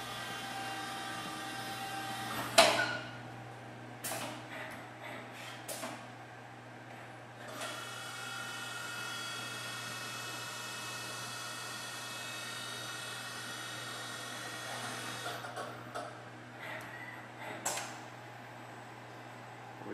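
Tsugami BU20SY CNC Swiss lathe with bar loader, a low-hour machine making medical parts, runs with a steady mechanical hum and high whine, broken by several sharp clanks and bursts of activity, with no talking.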